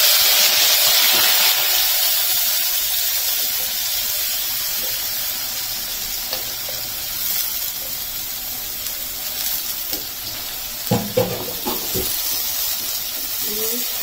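Chopped onions frying in a cumin tempering give a steady hissing sizzle, loudest at the start, then settling, with a few clinks of a utensil near the end.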